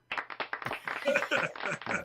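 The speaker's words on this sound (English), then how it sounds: "Just a little applause." A small studio group on a radio morning show gives a brief round of applause, a few separate hand claps that soon blend into a light patter. Talking and laughter sit over and among the claps.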